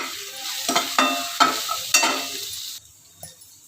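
Red chilli powder, garam masala and coriander powder being stirred in a pan for dal tadka, with four or so rhythmic scraping strokes over a soft sizzle before the sound drops away.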